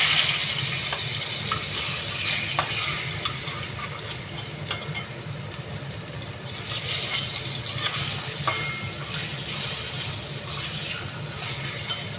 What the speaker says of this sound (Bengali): মাছটা ভাজা হোক মাছটা ভাজা হতো